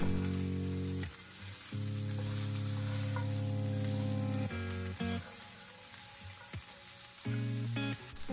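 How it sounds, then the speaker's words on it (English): Frozen broccoli with red pepper flakes frying in a hot pan, a loud, dense hiss with brief dips and sharp clatters as the pan is moved or stirred, with no voices. "Add half a teaspoon of red pepper flakes and about a cup of frozen broccoli. Cook for 3 minutes or until broccoli is hot."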